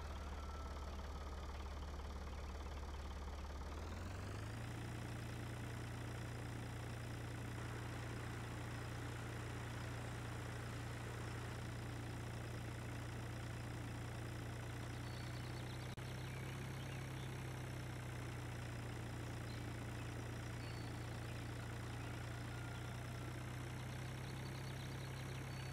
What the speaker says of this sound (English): This is why I wanted this little tractor.